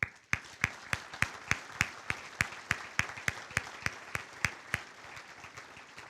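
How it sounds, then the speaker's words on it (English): A university scholarship banquet audience claps in a steady rhythm, sharp, evenly spaced claps standing out above a soft wash of general applause throughout. "join me in a round of applause in thanking our Penguins of the Year"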